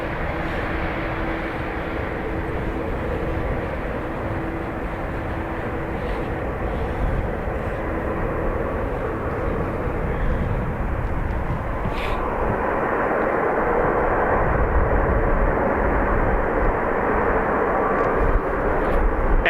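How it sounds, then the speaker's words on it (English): An Emirates Boeing 777 at Dublin Airport gives a loud, steady broadband engine roar that builds in intensity toward the end, with no voices over it. "Emirates 777."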